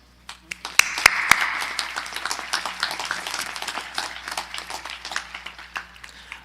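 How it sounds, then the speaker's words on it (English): Audience applause at a 2020 Martinsville High School graduation ceremony, given for the graduates' parents; scattered claps build into steady, moderately loud clapping from a large crowd, with a few sharp close claps near the start. "I also think we should give a round of applause for our parents."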